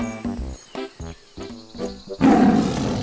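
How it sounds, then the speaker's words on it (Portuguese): A jaguar roar made with a jaguar call horn comes as a series of rough, grunting pulses that swell into a louder, sustained growling roar, close and alone. "Ah, isso aí deve ser só uma onça."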